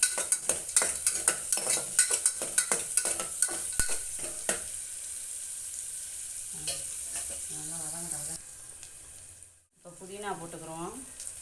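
Onions sautéing in a pan for mushroom biryani, a constant sizzle with rhythmic scraping and clinking of a stirring spoon early on, then steady frying while a voice talks over it.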